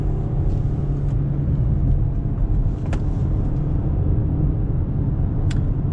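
Mazda CX-5 family SUV held in gear while driving: a loud, steady engine and road rumble heard from inside the cabin, continuous and unchanging, with a couple of faint ticks over it.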